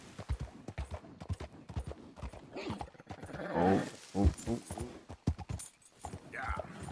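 Horse hooves clip-clop in Red Dead Redemption 2, a steady rhythm of fairly close steps mixed with game sounds while someone talks over much of it.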